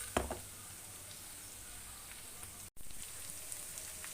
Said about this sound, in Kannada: ಅಷ್ಟೊತ್ತಿಗೆ ಇಲ್ಲಿ ಒಗ್ಗರಣೆನ ಬೇಯ್ತಾ ಇದೆ.